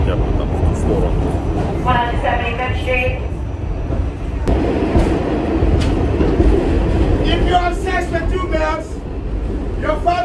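Inside a New York subway car in motion, a steady loud rumble of wheels and rails fills the space, with voices talking over it and brief squealing tones near the start and end.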